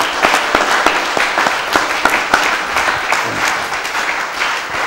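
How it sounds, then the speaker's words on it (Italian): Sustained audience applause at an Italian conference on the constitution and the right to health, a steady crowd of many hands clapping with distinct sharp claps standing out throughout, no speech over it. "mi sembrava doveroso questo applauso"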